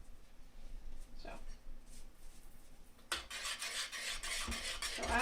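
A spoon scrapes and rasps through vegan garlic pasta sauce as nutritional yeast is stirred in, soft at first then a louder, sustained rubbing from the middle on, with a voice talking underneath.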